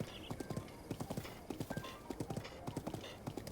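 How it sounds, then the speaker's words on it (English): Horse hooves clip-clop steadily in The Legend of Zelda: Breath of the Wild as a wild horse moves at a brisk, regular gait, with faint background sound underneath. "this is a wild horse. Descended from Zelda's horse."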